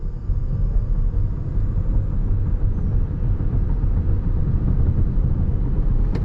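A 2021 Toyota Mirai pulling away on throttle in sport mode, giving only a quiet, even low rumble of road and drivetrain noise that holds steady with no sharp rise.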